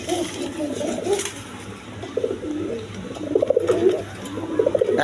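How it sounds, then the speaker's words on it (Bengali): A pair of black pigeons with pot-shaped necks coo in repeated low, rolling phrases close by, with faint background noise. "দর্শক এখানে এক পেয়ার কবুতর আছে দেখেন"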